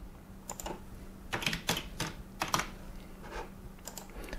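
Typing on a computer keyboard, a quiet close sequence of irregular key clicks in short bursts with brief gaps between them, no talking.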